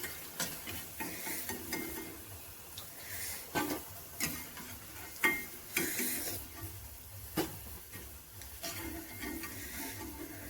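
Avarekalu bonda sizzling in hot oil with a continuous close bubbling hiss, punctuated by metal utensil clinks and scrapes as the fritters are lifted out.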